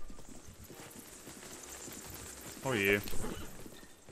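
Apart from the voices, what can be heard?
horse hooves on rocky ground in the video game Zelda: Breath of the Wild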